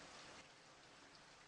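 Rain falls in the video game Virche Evermore as a soft, steady, faint hiss with no talk over it.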